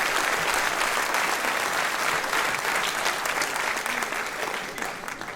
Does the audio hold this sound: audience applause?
yes